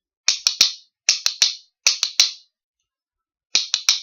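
Rhythm bones clack in quick forward-couplet triplets, each a tight bright burst, repeated four times with short pauses between, close and dry.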